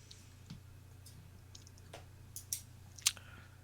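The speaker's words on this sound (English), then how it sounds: "You're clicking. I can hear clicking." Faint, sparse clicks from a pen on a quiz show, scattered irregularly over a low steady hum, with a couple of sharper ticks near the end and no speech.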